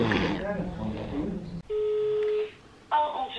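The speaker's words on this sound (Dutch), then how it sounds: "Je hoort de telefoon en dacht ik neem ondertussen maar even wat op." Telephone line on hold, with someone speaking first, then a long steady electronic tone, a short pause, and a second tone starting, loud and close.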